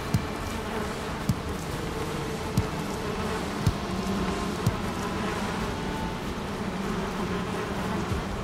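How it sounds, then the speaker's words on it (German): Bees in the Valheim video game buzz as a dense, steady drone that fills the scene, broken by a few faint soft clicks, with no talking. "Und außerdem sind die Bienen glücklich."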